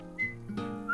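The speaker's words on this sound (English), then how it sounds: "You don't like my whistling?" A cartoon character whistles a tune, a clear bright tone sustained for a moment, then a lower voiced note, and a new whistled pitch rising at the end, with no talking.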